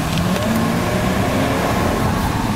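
A 1990 Cadillac Fleetwood Brougham with about 92k miles picks up speed, giving a steady, loud engine and road roar with no gaps and no talk.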